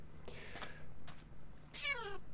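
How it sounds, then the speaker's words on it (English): A cat in the game Minecraft meows a few times, short quiet mews spaced across the moment, ending in a longer wavering meow over faint background hum. "And there's a cat right there."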